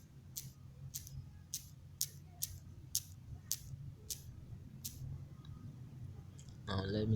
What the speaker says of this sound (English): Let me type my password.